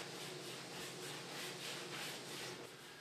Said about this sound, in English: You been sanding this thing, Dave?